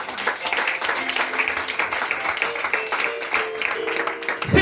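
A church congregation claps together in steady, dense applause, with some voices and a sustained musical tone running underneath throughout.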